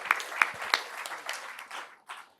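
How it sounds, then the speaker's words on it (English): Applause at a school district board meeting for a retiring educator: a few sharp, loud claps at first, then a thinning patter that fades away to near silence. "How about an applause for Michael?"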